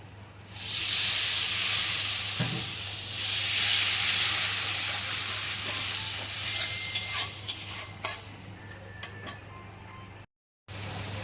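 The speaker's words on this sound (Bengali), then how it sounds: "নেড়ে নেবো একটু অল্প করে জল দেবো" Water poured into hot masala in a pan for a pointed gourd and potato dum bursts into a loud, steady hiss and sizzle, then fades as a spoon stirs with light scraping clicks; a brief silence comes near the end.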